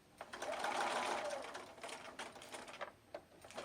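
A sewing machine stitches a quilt binding, with a short burst of rapid needle clatter at first, then quieter intermittent ticks and taps. The sound is faint and close.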